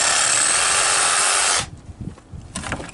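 A loud, steady buzzing roar of a power saw cutting fig tree wood, which stops abruptly partway through, leaving quieter rustling and clattering.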